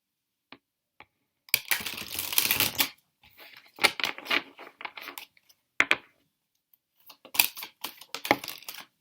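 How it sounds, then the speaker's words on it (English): Tarot cards shuffled close by in several bursts, riffling and slapping together with short pauses between, and no talking. "Now I am going to simply take away these cards and I'm going to shuffle them"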